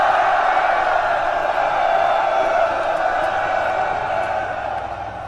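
Massed soldiers cheer in the Total War Medieval 2 battle game, a broad sustained roar of many voices that holds steady, then thins slightly toward the end.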